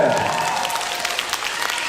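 A concert audience applauds after a children's song performance, a steady, full burst of clapping from a hall crowd lasting the whole moment without a break.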